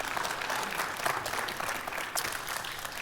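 Sustained audience applause fills the room at a church talk on love and marriage, a dense, steady clatter of many hands clapping from start to finish with no pause.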